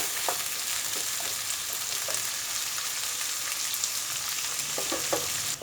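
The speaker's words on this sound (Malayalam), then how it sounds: "ഇതൊന്ന് നന്നായിട്ട് വഴറ്റി കൊടുക്കുന്നത് നല്ലതാണ്" Chopped ivy gourd sautés in a pan for a dry Kerala-style masala, a dense continuous sizzle with light scattered ladle taps and stirring scrapes, close and steady with no talking.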